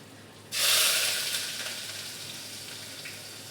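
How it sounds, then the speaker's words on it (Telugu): Onions dropped into hot oil burst into a loud, bright sizzle that slowly settles into a steady, softer frying hiss, with no talking. "ఉల్లిపాయలు అయితే వేపించేసుకుందాము."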